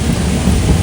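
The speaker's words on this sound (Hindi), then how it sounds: "बहुत तेज तेज बिजली कड़क रही है" Thunder rumbles low and continuous through a heavy rainstorm over a flooded park, with steady rain noise filling the whole short stretch at high loudness and no voices.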